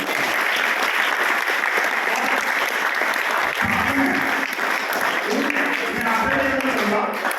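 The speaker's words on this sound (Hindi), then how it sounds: "मैं चाहूंगा आप लोग ताली बजा करके उनका अभिनंदन करें।" An audience at an Arya Samaj gathering in Jodhpur claps steadily and loudly for about seven seconds, a dense continuous wash of hands with some voices and low murmuring emerging toward the end.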